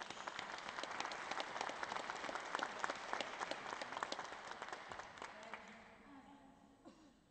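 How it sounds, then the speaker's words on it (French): Audience applause after an afternoon presentation, dense clapping that holds steady for several seconds, then thins and fades out toward the end. "Alors je vous invite à l'applaudir, ce sera sa petite récompense."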